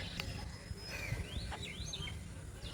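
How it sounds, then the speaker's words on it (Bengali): Birds call outdoors on a rainy morning, a few thin rising and falling chirps and whistles sounding faint and moderately distant over a steady low background hum. "পাখিগুলো মানে সকালের ডাক এখন ডাকছে।"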